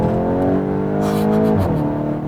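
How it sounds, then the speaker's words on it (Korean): Volkswagen Golf GTI in sport mode accelerating at full throttle from low to high speed, engine note climbing steadily and loudly before a brief dip at a gear change, then pulling on, close and strong with no talk. "저속에서 고속으로 풀악셀!"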